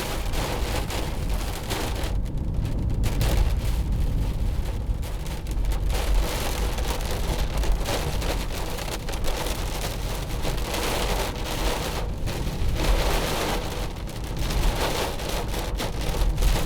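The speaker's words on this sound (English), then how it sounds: "The rain bouncing off." Steady, dense patter of rain drumming on the body of a 2015 Mercedes-Benz C200 nearby, heard from inside, a continuous broadband wash with no voices.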